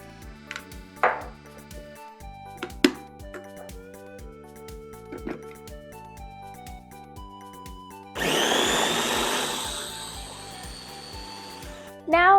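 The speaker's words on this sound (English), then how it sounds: "Now in a blender, we're going to add our watermelon, 1/3 cup of sugar, and a pinch of salt, and then you're going to blend it until smooth." A blender whirs through watermelon with sugar and a pinch of salt in one loud burst of about four seconds, after a stretch of background music with a few light knocks.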